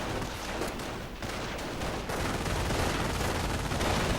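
Sustained MG42 machine gun fire in a World War II real-time strategy game, a dense unbroken rattle of rapid shots filling the whole stretch with no pauses.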